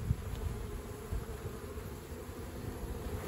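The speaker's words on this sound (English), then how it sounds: "these bees from this hive, they will go in there" Honey bees buzzing steadily around an open beehive during a hive inspection, a dense continuous low drone close by with no talking.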